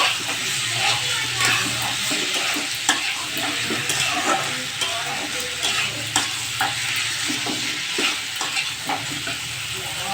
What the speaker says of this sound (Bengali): ভেজে রাখা আলুগুলো দিয়ে দিলাম, দিয়ে অল্প একটু কষিয়ে নেব।